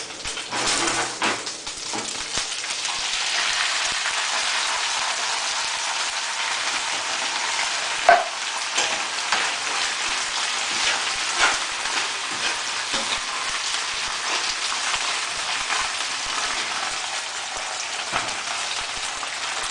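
Manwich sauce poured over drained meat sizzles in a pan on high heat, a dense continuous crackling hiss that stays loud and even for the whole stretch, close up, with no one talking.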